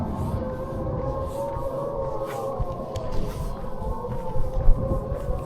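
North Korean propaganda loudspeakers blare across the border, far off and eerie, a wavering siren-like wail mixed with low droning that rises and falls over a few seconds.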